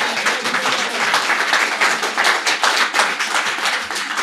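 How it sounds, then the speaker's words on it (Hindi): An audience at a poetry recital claps along in a fairly close, continuous patter of hands, moderately loud and holding steady for several seconds without talk. "तो आप भी साथ देंगे तालियों से"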